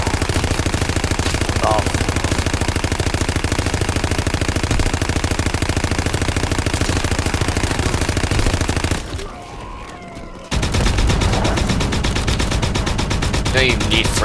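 Sustained automatic fire from a WWII Austen submachine gun, long dense bursts running nearly continuously with a brief pause before firing resumes, loud and close, with a short spoken exclamation.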